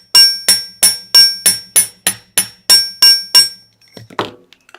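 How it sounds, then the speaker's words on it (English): A metal hammer strikes the round wire bale of a wire-wrapped tree-of-life pendant about a dozen times in a steady, ringing rhythm, each blow loud and close, followed by a few lighter taps and small clinks. "hammering the bale here a little bit will help you wrap it too"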